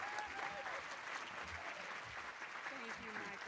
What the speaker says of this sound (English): let us all give a round of applause for Donna Murray-Brown as she makes her way to the front